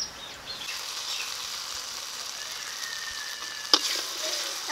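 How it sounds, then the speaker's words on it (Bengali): Masala paste for a pointed gourd and prawn curry sizzles softly as it is stir-fried in a pan, a faint steady hiss with one brief clink of utensil near the end. "এখন মশলাটাকে আরেকটু ভালো করে কষিয়ে নেব।"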